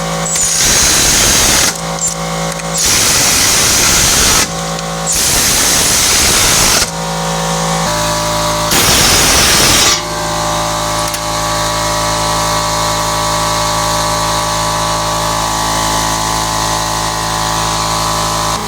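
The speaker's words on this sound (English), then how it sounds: "Now we're going to tighten this bolt." Power tool tightening a bolt on a 2016 Honda Civic front strut assembly: several loud, close whirring bursts of a few seconds each with short gaps, then a steadier lower mechanical hum.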